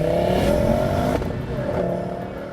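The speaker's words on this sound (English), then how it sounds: "Honda says that the smaller middle pipe acts as a sound controller, raising volume at full throttle and reducing boom when cruising" A 2017 Honda Civic Type R FK8 with its triple-pipe exhaust drones steadily at close range, the engine note dipping briefly midway before settling back into a smooth, sustained hum.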